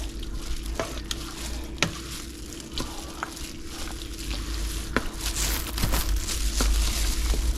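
Homemade mac and cheese stirred in a pot, with steady close scraping and occasional sharp utensil clicks over a continuous low hum. No one speaks.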